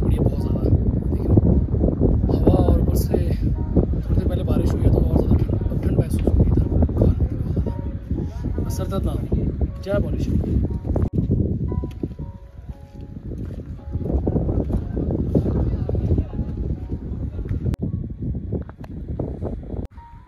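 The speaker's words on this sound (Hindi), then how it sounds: "और हवा चल पड़ी है बहुत ज्यादा।" Strong wind roars and buffets the microphone high on a rain-soaked Himalayan trek near Kali Top, a continuous loud rushing with gusty surges that eases briefly in the middle, while a voice talks over it.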